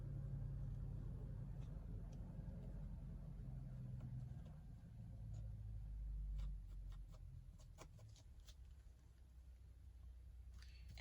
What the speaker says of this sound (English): sorry about the noisy truck outside